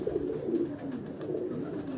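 Pigeons coo on a rooftop in Lahore, a close, low, throaty warbling that rolls on continuously for the full moment with no talk.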